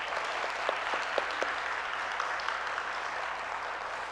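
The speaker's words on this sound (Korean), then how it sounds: "하나님께 다시 한번 영광과 찬양의 박수를 올려드립시다" A church congregation applauds during a Sunday worship service, a steady, moderately distant wash of clapping with a few sharper individual claps standing out, no voices over it.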